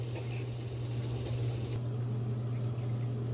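Chicken strips dropped into a pot of boiling water for chicken soup, a soft splash and pouring gurgle over a steady low stove hum, close and faint, with no talk.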